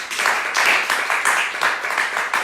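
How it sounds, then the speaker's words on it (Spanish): A church congregation applauds together in a continuous wash of loud, fairly steady clapping that swells in uneven pulses and carries on for a couple of seconds with no voices over it. "Denle una ofrenda de palmas al Señor."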